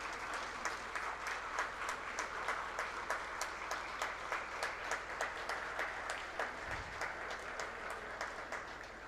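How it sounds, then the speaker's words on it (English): An audience at a ceremony at Central Electronics Limited (CEL) claps steadily, with a faint, evenly pulsing applause that continues throughout. "I request everyone present here to kindly give a huge round of applause."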